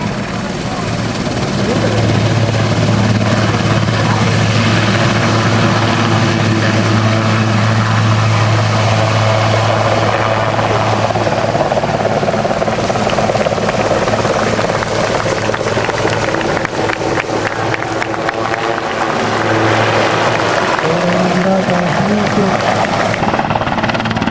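A helicopter taking off backwards at an air show, its rotor and engine roaring steadily and loudly throughout, a constant near drone with faint voices underneath.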